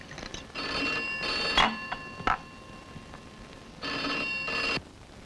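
An electronic telephone ringer trills in two bursts with a gap between, accompanied by a few soft clicks and knocks in a quiet room.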